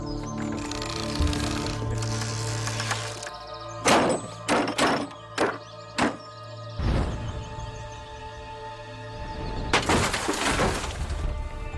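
Ballista bolt fired by experts at about 91 metres with increased tension, striking a stone wall: a burst of sharp crashing impacts and crumbling debris, several quick loud cracks in a row, then more rubble noise later, with no voices.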